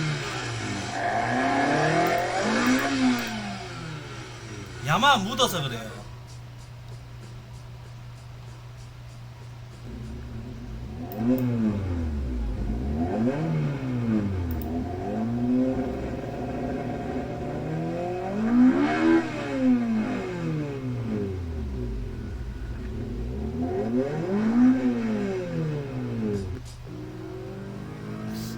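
A Toyota car's Yamaha-built engine revs repeatedly in rising and falling sweeps over a steady drone, with a few words spoken quietly between the revs.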